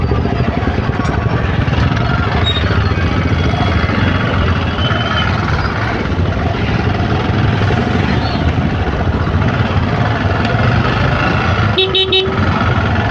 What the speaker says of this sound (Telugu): చూసారు ఎంత ట్రాఫిక్ ఉందో. ఫుల్ ఉందన్నమాట ట్రాఫిక్.